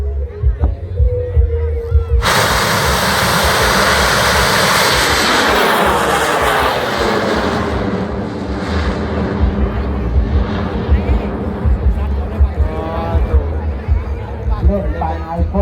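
A large bang fai rocket launches at a rocket festival with a sudden loud roaring blast that rumbles on steadily, then slowly fades as it climbs away into the distance.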